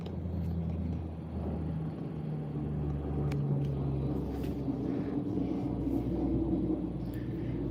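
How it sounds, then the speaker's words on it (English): Firefighting tanker aircraft flying over a Southern Colorado wildfire make a low, steady engine rumble from a distance, faint and continuous with slight swells, under quiet outdoor air. "Yep, they're both tanker aircraft. Both of them are definitely working that fire."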